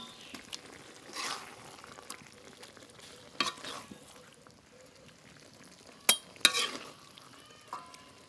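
Jackfruit curry stirred in a pan while cooking, with soft scraping and a faint sizzle, plus a few sharper clinks and spoon knocks against the pan, quiet and close.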